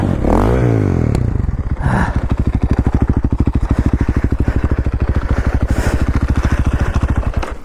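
A four-stroke engine sputters and flames out on a snowy trail: a loud rev that drops away, then a steady, rapid chugging pulse that carries on close by without any talk.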